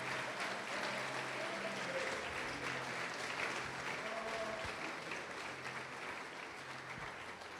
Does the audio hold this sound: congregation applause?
yes